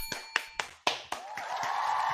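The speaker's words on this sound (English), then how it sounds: "Round of applause." A few separate claps from a small group on a podcast, about five sharp hand claps spaced roughly a quarter second apart, followed by a sustained higher hiss or cheer-like noise that carries on to the end.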